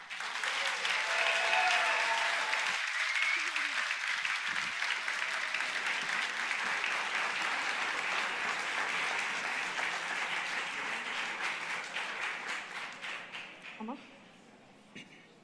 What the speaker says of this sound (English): please give a huge applause to car number 63